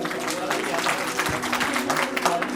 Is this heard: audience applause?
yes